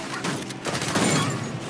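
A quick, loud burst of gunfire in Uncharted 4, a few clustered shots amid a noisy action scene.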